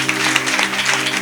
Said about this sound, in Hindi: एक जोरदार ताली परमेश्वर के वचनों के लिए बजाएं